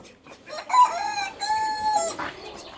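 A small pet rooster crows close by and loud in a single long, full call with a brief cluck trailing at the end, heard alone in a home poultry and pigeon-keeping setting.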